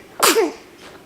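A single sharp human sneeze, close and loud, bursting out abruptly and fading quickly in a quiet room.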